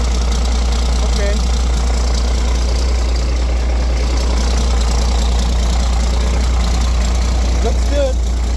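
A Roadtec paving machine's engine runs continuously with a loud, steady low rumble and slight knocking, close by and unbroken throughout.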